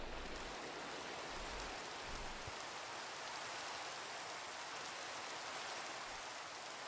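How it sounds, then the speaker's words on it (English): Rain falls in the video game Minecraft at night as a steady, even hiss of downpour that fills the whole stretch, with no voices over it. "And raining."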